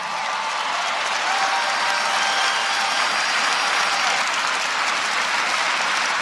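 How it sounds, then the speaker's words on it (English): Steady, dense applause from a large crowd at a Donald Trump thank-you rally in Des Moines, Iowa, sustained and loud throughout with no breaks. "Give him applause, come on."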